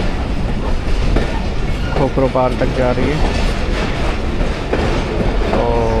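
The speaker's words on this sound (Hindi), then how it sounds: "हैदराबाद जंक्शन रेलवे स्टेशन पे 43 अब शाह हुसैन एक्सप्रेस अप्रोच बना रही है" Shah Hussain Express passenger train running toward Hyderabad Junction, a steady loud rumble and rhythmic wheel clatter heard from inside the carriage, with someone talking over it.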